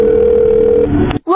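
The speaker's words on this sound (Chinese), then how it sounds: "快点给爸爸打电话。" A cartoon telephone being dialed, heard as a loud, steady electronic tone that shifts pitch before cutting off abruptly, followed by a brief higher chirp, all up close.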